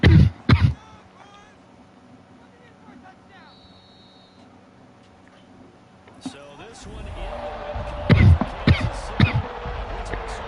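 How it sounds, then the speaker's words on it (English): A few sharp coughs right at the start, then quiet background noise, followed by louder rumbling and clattering activity with a couple more abrupt bursts. "Sorry for all the coughing, y'all."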